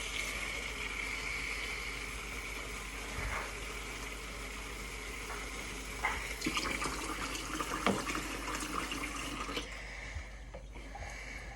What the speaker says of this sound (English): I will get some water from the tap